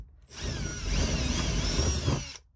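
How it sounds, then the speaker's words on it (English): A power drill bores through a plastic Molle panel for mounting, its motor whine rising over a gritty, steady cutting roar for about two seconds before cutting off abruptly, loud and close with no talking. "drill a hole through the plastic"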